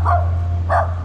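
A dog barks twice in short bursts, close by, outdoors in a park in Peru, with a steady low hum underneath and no talking.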